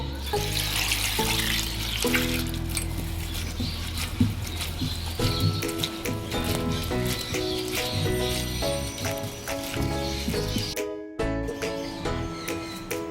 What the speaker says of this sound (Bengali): এবার আমি ভালো করে ধুয়ে নেব মোচাটাকে।